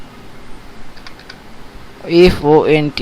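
Typing on a computer keyboard while writing HTML code, a quiet patter of scattered keystrokes that turns into a loud, close burst near the end under a man's speech.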